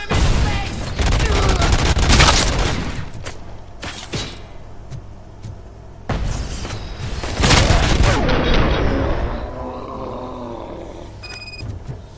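Gunfire in the game Robocop: Rogue City: loud bursts of shots and booms in clustered volleys with short quieter gaps between them, and shouting voices mixed in.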